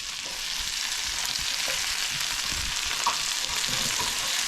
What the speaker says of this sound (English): we're going to add this Andouille sausage in here